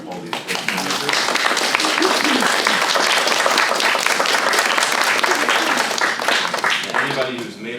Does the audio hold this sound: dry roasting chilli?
no